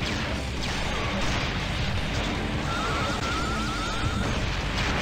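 Screamer, the Metal Slug 5 boss, fires its sonic cannon to smash buildings in the video game, a dense, loud roar of crashing and rumbling debris sustained throughout with no talk.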